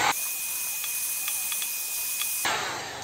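Oil hits a hot metal part of a Bruni 9mm PAK pistol and hisses in a steady, loud sizzle lasting a couple of seconds, with a few faint crackles, then stops abruptly; no voices.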